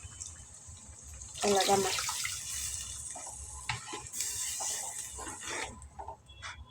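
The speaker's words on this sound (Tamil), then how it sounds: "மிக்ஸி ஜாரை கழுவி ஊற்றிடுவோம்." Water splashes and pours into a mixer jar to rinse it in a kitchen during curry cooking, two bursts of running liquid with quieter trickles between, while a voice speaks briefly.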